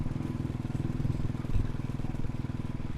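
A Royal Enfield Bullet motorcycle rides through Bangalore, its single-cylinder engine giving a steady, rapid low thump close to the listener, with a faint rattle over it.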